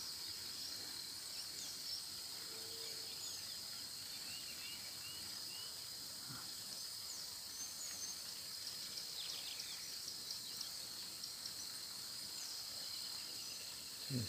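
Steady outdoor ambience on a rural smallholding with dense insect or cricket trilling and scattered faint bird chirps over a soft continuous wash of flowing water.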